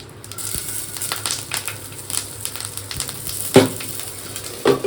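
Tempering for dal in hot oil with bay leaf, dry red chillies, cumin and green chillies: a continuous close sizzle with sharp crackles and a few louder pops and clinks of a utensil, no talk.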